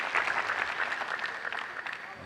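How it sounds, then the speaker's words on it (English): A Texas crowd at a Major League Table Tennis match claps and cheers steadily in a busy arena, the applause loud and continuous under an announcer's voice. "you can hear the support of the Texas crowd"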